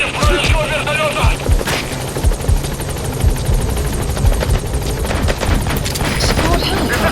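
Helicopter rotor thumping throughout a Metal Gear Solid V combat scene at an outpost, with bursts of machine-gun fire and gunshots crackling over it, loud and continuous, with radio-style voices talking.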